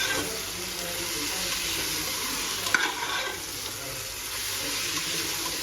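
Chopped tomatoes are stirred into frying onion masala with ginger-garlic paste and green chillies for mutton biryani, producing a continuous close sizzle with wet stirring and a single brief clink partway through.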